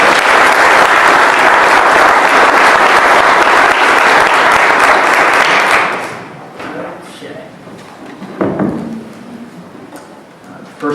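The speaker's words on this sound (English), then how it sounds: "Let's give them all a final round of applause" Loud, dense audience applause at a candidate debate fills the first six seconds, then drops off abruptly, leaving scattered claps, shuffling and a few thuds.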